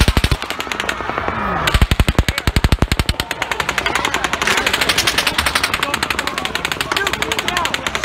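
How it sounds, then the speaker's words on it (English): Rapid bursts of automatic gunfire at a crowded outdoor country music concert, loud and sustained in dense volleys throughout, with crowd noise and screaming beneath. "Shots fired at the concert."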